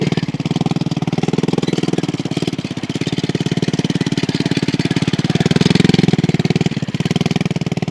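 A homemade motorbike built from scrap parts runs loudly and steadily nearby, its engine chugging in a fast, even pulse with a slight surge in revs partway through.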